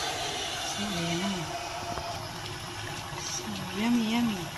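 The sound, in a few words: pouring water into cooking pot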